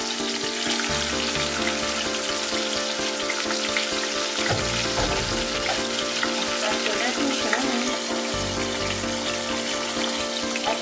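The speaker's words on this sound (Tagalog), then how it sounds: "nagpinit pa ako ng mantika at prituhin natin" Tilapia frying in hot oil in a pan, giving a loud, continuous close-up sizzle and crackle that holds steady throughout with no talking.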